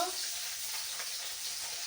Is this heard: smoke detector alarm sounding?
no